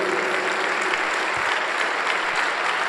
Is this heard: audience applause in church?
yes